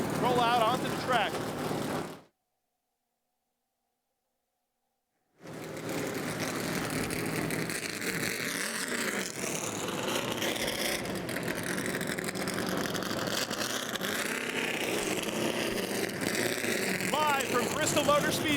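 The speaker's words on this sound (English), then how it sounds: "Let's sign you off seeing these Sprint Cup Series stock cars roll out onto the track." Sprint Cup Series stock cars rolling out onto the Bristol Motor Speedway track, a continuous engine drone with brief gap, rising and shifting revs and mixed motor noise, with voices under it.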